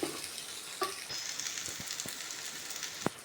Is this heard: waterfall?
no